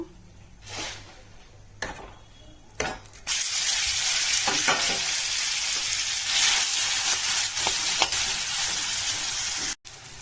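Nigella seeds (kalo jira) hit hot oil alongside two dried red chillies, bursting into a loud, steady frying sizzle after a few quiet stirring knocks, then holding strong until a sudden cutoff near the end.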